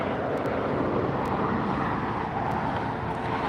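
Broadband, steady jet roar from a Lufthansa Airbus A380 taxiing at LAX, a continuous loud rumble with no clear rise or fall and no voices over it.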